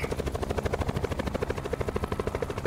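Helicopter in the video game Black Ops 4, a steady rapid rotor chop with a rhythmic pulsing whine, loud and close throughout with no talking.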